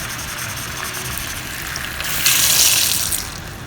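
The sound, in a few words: water being added to cooking pot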